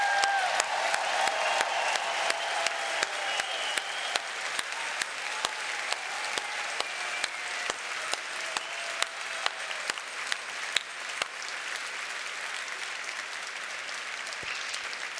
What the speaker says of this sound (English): please could you have a huge round of applause for our narrator for our space musical